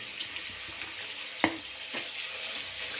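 Green chili and ginger garlic paste sizzling in hot oil alongside light golden onions, a steady frying hiss with a sharp clink of a utensil partway through and faint stirring.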